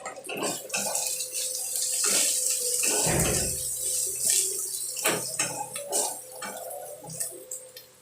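Water is poured from a vessel into a pan of fish curry cooking with tomato and spices, a close splashing trickle that swells in the middle and fades, with light clinks of cookware.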